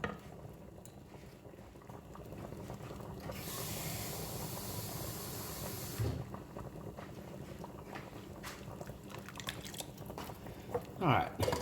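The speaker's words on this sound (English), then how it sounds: "now I'm gonna add me some more water" Water pours into a pot of homemade vegetable soup in a home kitchen, making a brief rushing splash in the middle that stands out above soft clinks and kitchen noise.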